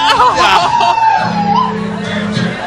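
A crowd in a played video shouts and whoops in loud, overlapping bursts, a dense wash of excited voices with a sustained yell near the end.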